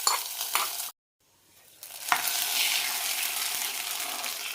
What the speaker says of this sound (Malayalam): ഇനി നന്നായി മിക്സ് ചെയ്ത് വെക്കാം